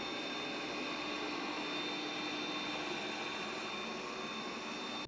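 Yeedi M12 Pro+ robot vacuum running at max suction on carpet, a steady, fairly loud whooshing roar with a faint high whine that holds constant and close throughout.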